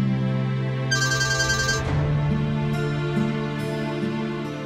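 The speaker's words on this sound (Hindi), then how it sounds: "किसका फोन आ गया?" A telephone ringtone plays loudly and close, a repeating electronic melody with a brief bright chime, ringing steadily throughout.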